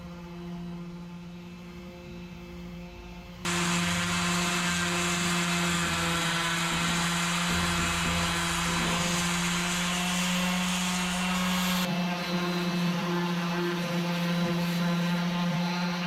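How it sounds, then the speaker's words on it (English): A power sanding tool smooths a steel boat hull below the waterline, a steady high whine with a constant hum that jumps louder after a few seconds and holds evenly throughout, with no voices. "After smoothing everything out with a sanding tool, the first section is done."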